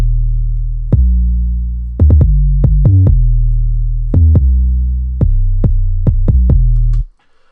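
Trap beat with sustained deep chords layered with a booming kick tuned to B, heavy low thuds in a syncopated pattern over droning bass, loud and alone, cutting off abruptly at the end.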